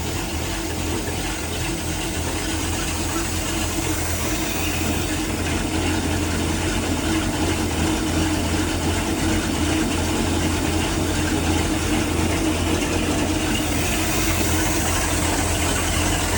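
The engine of an old 34-foot Bayliner yacht idles steadily after starting, running right after a distributor pickup repair. The rough, mechanical, slightly ticking rumble is close and loud and continues throughout without talk.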